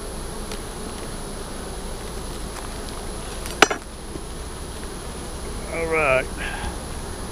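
Honey bees buzz steadily around an open hive as honey frames are pulled, a constant droning hum with a brief sharp knock partway through and a voice speaking briefly near the end.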